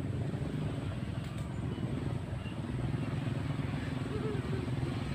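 A motorcycle engine drones along a road under repair, a steady buzzing hum that holds at a moderate distance for several seconds without clear rises, while faint voices sound in the background.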